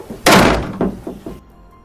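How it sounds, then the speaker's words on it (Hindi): A door in a rooftop room of a hostel slams loudly once, followed by a few quicker, fainter knocks and rattles as it bangs open and shut, then quiet. "ऊपर छत के किसी कमरे का दरवाज़ा बहुत तेज़ी से खुलता और बंद होता रहता है"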